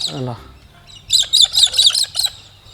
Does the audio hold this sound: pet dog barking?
no